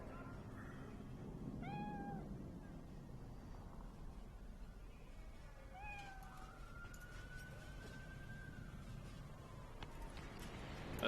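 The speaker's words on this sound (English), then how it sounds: "Pet the kitty!" A cat in the Cyberpunk 2077 video game gives two short, clear meows a few seconds apart over a steady bed of game ambience, with a faint siren-like tone drifting in afterward.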